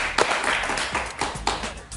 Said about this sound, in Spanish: Un aplauso para Leopoldo López